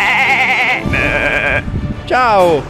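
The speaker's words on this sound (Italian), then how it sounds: "Le pecore. Magari sono qui." Several sheep bleat loudly and close by in Sweden, wavering cries with a short pause between them, while a person briefly speaks in Italian.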